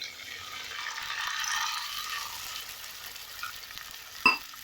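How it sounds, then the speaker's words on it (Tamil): Onions and tomatoes frying in a pan for drumstick-leaf poriyal, stirred with a utensil as a little water is added, giving a steady soft sizzle with a brief scrape or clink near the end. "வெங்காயம் தக்காளி நல்லா வதங்கினதுக்கு அப்புறமா கொஞ்சமா இதுல தண்ணி சேர்த்துக்கிறேன்."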